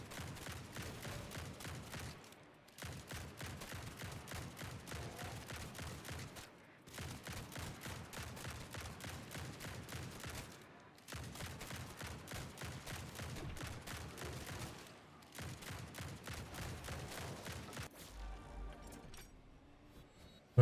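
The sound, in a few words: shotgun firing in the video game Grind Survivors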